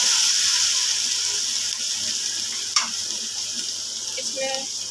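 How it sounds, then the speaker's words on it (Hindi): Onion with garlic-ginger paste sizzles and crackles steadily in a hot pan, with a brief clink and some light stirring sounds partway through. "इसको हम 1 मिनट के लिए भून लेंगे।"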